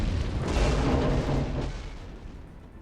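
Missiles fire and explode in the space combat game Nebulous as a loud, continuous roaring rumble with overlapping blasts that gradually die away.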